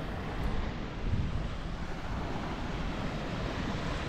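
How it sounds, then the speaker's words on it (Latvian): Strong wind buffets the microphone on an empty seaside beach early in the morning, a steady low roar and rumble with gentle surf washing in beneath it, no voices. "Vējš gan ārā, nezinu, kā mums dzirdēs."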